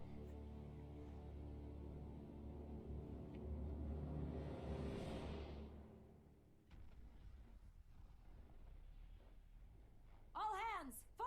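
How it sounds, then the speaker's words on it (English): A storm rumbles in the Guild Wars 2 video game as a deep, swelling roar that builds and then fades. A short whistling tone rises near the end. "Yeah, it's quite a storm."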